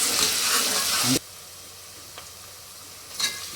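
Onions fry in a pan for mutton keema, making a loud, dense sizzle for just over a second. It cuts off abruptly to near quiet broken by faint clicks.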